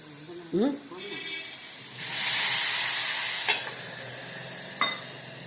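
Tomato, potato and capsicum curry steaming as it cooks, a soft steady hiss that swells for a couple of seconds amid a few clinks, with people talking nearby.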